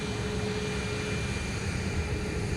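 A passenger jet taxis along taxiway Mike at Minneapolis–Saint Paul airport, about 300 feet away, giving a steady, loud engine roar and whine that holds constant throughout with no talking.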